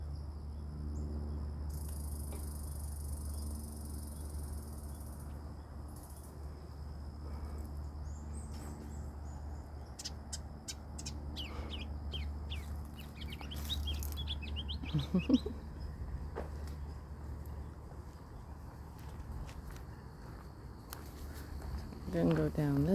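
Small bird chirping in short bursts amid rustling footsteps on an outdoor arboretum walk, with a steady low hum beneath; a brief call stands out mid-way and more near the end.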